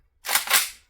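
Single rifle shot in 5.45 fired at a range through a Midwest Industries blast deflector, one sharp loud crack with a short decaying tail.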